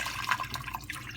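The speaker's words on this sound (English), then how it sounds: "And I'm going to add water." Water pours into a quick cooker holding chicken for chicken noodle soup, a short, steady splashing fill close to the microphone, heard alone without talk.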